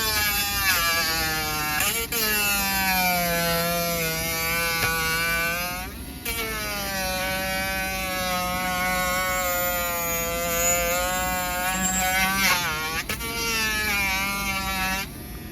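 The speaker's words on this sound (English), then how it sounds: "You're gonna wanna grind down these as well." A small rotary grinder whines in a high buzzing tone while grinding down the plastic buttons on Onyx scooter fenders, the pitch sagging and recovering with brief pauses as pressure changes.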